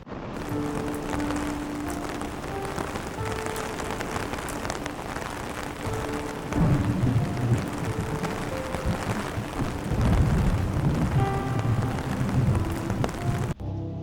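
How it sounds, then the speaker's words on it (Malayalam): Heavy monsoon rain pours steadily over a Kerala village where a tractor is ploughing a field, a dense, continuous hiss of downpour with no voices, swelling louder toward the end. "അല്പനേരം മഴ പെയ്യുന്നതും നോക്കി നിന്നു"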